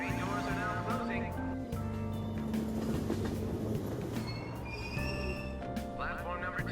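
A subway train in the Persona 5 Royal video game pulls out from a Tokyo platform at Aoyama-Itchome after its doors close, a steady rumble of rolling carriages blended with layered game music and a voice.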